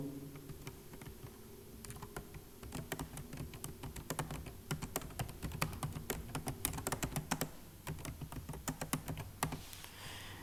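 Someone types on a computer keyboard in a quiet room, with a close, irregular patter of key clicks that thickens into fast bursts midway, over a faint low hum and no speech.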